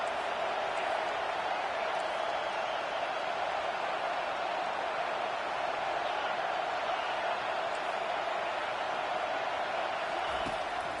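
A football stadium crowd roars steadily behind the defense on a big third down in an LSU versus Georgia game, a dense, constant wash of cheering noise without breaks.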